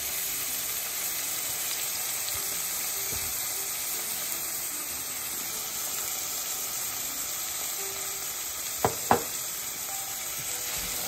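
Spiced butter and bear berry for an Ethiopian dish cooking in a pot, a steady loud sizzling hiss throughout with a couple of sharp clinks near the end, no talk.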